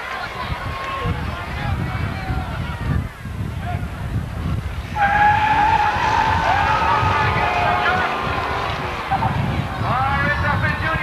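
An 83 Camaro and an 86 Mustang GT stock car race at Seekonk Speedway, their engines roaring at a distance beneath a crowd and an announcer's commentary, with the racket swelling as the cars come past.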